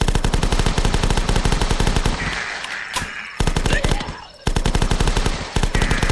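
Rapid automatic gunfire from the video game The Last Stand rattles in loud, dense bursts, broken by short pauses before the firing resumes.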